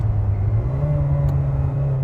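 Classic Ferrari Dino or Maserati Merak sports car engine running steadily while driving, a loud, close, deep rumbling drone heard alone.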